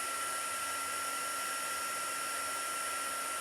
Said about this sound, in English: hold it for a second, take the heat tool again